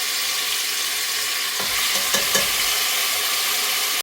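Beef roast cooks in oil in a pressure cooker, giving a steady loud sizzle of frying throughout, with a few scraping stirs of a spoon in the middle and no talking.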